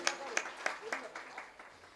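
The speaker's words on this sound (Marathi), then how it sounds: "सर्वांना जोरात टाळी एकदा वाजवा" An audience at a Marathi kirtan claps loudly in a steady rhythm, roughly four sharp claps per second, with voices mixed in.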